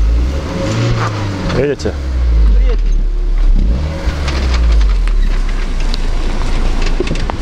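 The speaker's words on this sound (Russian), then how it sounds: "Колеса начинают пробуксовывать, вот смотрите." A short-wheelbase Lada Niva engine revs hard and rises and falls as its wheels slip while climbing a sandy hill, loud and close, with someone speaking briefly over it.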